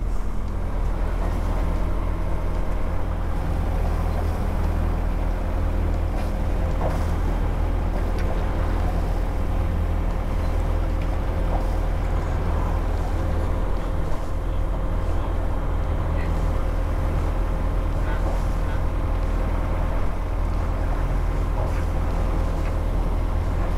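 A family sailboat motoring under engine power on a summer coastal passage from Bourgenay toward Port Joinville. A steady, loud engine drone with water rushing past runs unbroken throughout.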